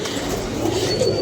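Pigeons coo in a brief, low, continuous murmur, close and moderately loud, with no talking.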